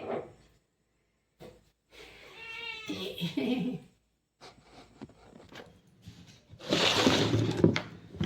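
Cats meow in several bursts, some drawn-out and wavering, with a louder close yowl near the end and faint shuffling noises between calls.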